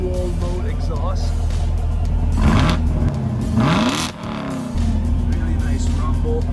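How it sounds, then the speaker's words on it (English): A 2019 Chevrolet Camaro SS engine with dual-mode exhaust rumbles steadily and revs up twice with a throaty exhaust roar, close by, then settles back to a low idle. "This one has dual mode exhaust."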